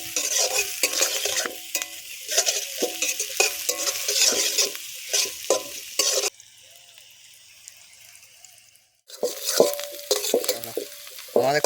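Chicken pockets fry in a pan while a utensil stirs and scrapes, with clinks and clatter over a sizzle, then a quieter lull before the stirring and frying resume.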